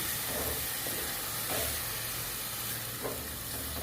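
Spinach bhaji sautéing in a pan gives a dense, continuous sizzle and hiss, with a few soft stirring scrapes rising above the steady frying noise.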